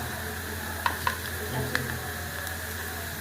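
Chechi greens fry in a pan with a steady, moderate sizzle, punctuated by a few light clicks and taps of stirring against the metal.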